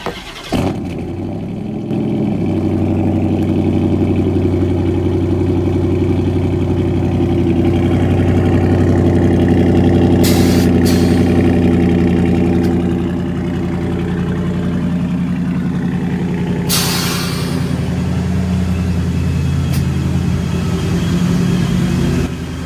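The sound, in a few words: Dodge Charger car engine cold start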